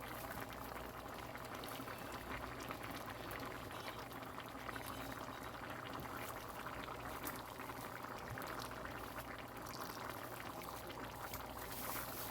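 Oil goes into a cooking pot of black chickpea curry, giving a steady hiss and bubbling sizzle that holds at a low level throughout with no voices.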